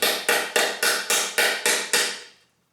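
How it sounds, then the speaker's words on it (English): A ball bearing is tapped into place with a socket during a 1968 Pontiac GTO drivetrain rebuild: eight sharp, evenly spaced metallic knocks, close and loud, each ringing briefly before fading into silence. "Socket that fits the right size. And just give her a light tap and she should go right in."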